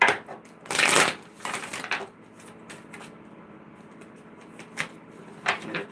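Tarot cards are shuffled by hand in loud, crisp riffling bursts, several quick runs separated by softer handling and pauses, close up with no talking.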